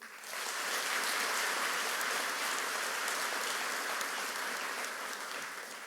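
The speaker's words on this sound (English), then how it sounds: "Can we please have another round of applause for Jake and Audrey?" Audience applause at a Langtree Charter Academy Upper School high school graduation ceremony in 2025: a loud, sustained burst of many hands clapping together. It holds steady for several seconds and then starts to fade slightly.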